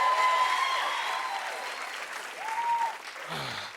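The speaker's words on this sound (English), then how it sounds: "Round of applause for Jimmy, everybody." Audience applause at an NBA All-Star event, a dense clapping crowd that fades slightly, with a voice speaking over it and brief speech near the end.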